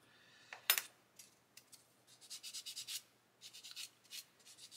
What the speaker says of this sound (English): we're using a Flory skinny sponge here to clean up the seam lines on these shafts